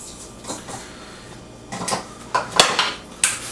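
Spatula scraping down the sides of a mixing bowl of chocolate chip cookie dough, a few faint scrapes and light knocks close by, growing slightly louder toward the end, with no talk.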